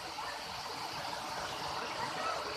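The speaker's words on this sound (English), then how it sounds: "Considered one of the most beautiful waterfalls." The tiered Kuang Si waterfall in Laos pours down the mountain in a steady, moderately distant rush of falling water, continuous and even with no voices.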